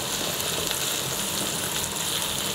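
Slices of sucuk sizzling in a pan with tomatoes, onions and peppers, a steady loud broadband hiss of frying fat that holds without break from start to finish, with no talk over it.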